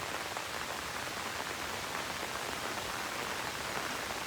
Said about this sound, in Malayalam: മഴ പെയ്യുന്നുണ്ട് നമുക്ക് തിരിച്ചു പോയേക്കാം